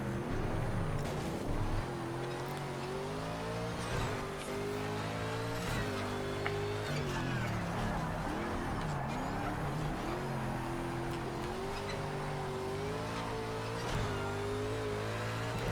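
Race car engine in an F1 game during a road course session on a still-wet track, a continuous high-revving whine that climbs and drops through gear changes and corners, steady and close throughout.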